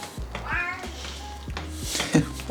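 A cat meows a few times close by, amid kitchen clatter and a low hum.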